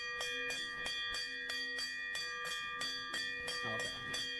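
A bell sound effect rings repeatedly through a livestream, a steady series of bright metallic strikes roughly every third of a second, each with a sustained ringing tone, no speech.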